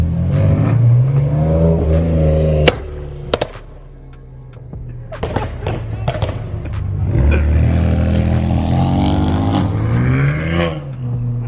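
A BMW M3 engine revs loudly and repeatedly close by at a car meet, pitch rising and falling, with sharp pops between surges.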